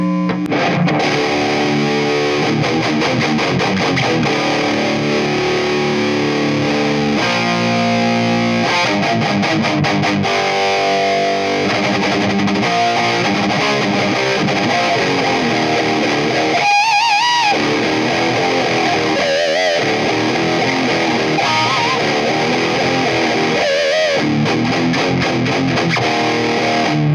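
Marshall Jubilee guitar amp with its rhythm channel pushed into heavy overdrive, a thick, dense distorted guitar played continuously and loud with chugging chords and brief pauses, no talking.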